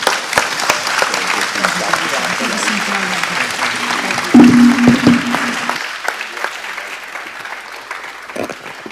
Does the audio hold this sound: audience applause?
yes